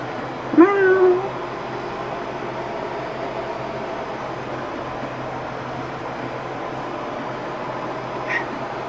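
Small kittens give one clear, rising meow near the start, with a fainter call near the end over steady background hiss.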